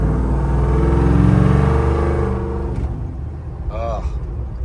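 A 1978 Ford Bronco with a swapped-in Ford Coyote V8 drones along on the road, its steady exhaust rumble loud and close before easing off, with a person talking over it.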